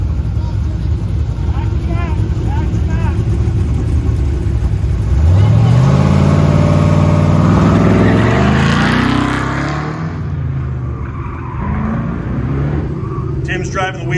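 A Dodge Dart and a Corvette in a street machine shootout at a Goodguys car show: a loud engine revs and climbs through gears as a car roars past close by, then fades, with an announcer talking over it.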